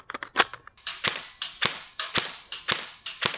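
An airsoft gun with pre-cocking set to level 4 fires a quick string of sharp snapping shots, about ten close, crisp cracks in a fast, slightly uneven rhythm with no talking.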